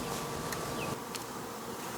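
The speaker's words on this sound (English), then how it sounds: "So this is the hive that swarmed on Friday." Honeybees buzz steadily at a hive that swarmed, a dense, close, continuous hum with a few individual bees flying past near the microphone.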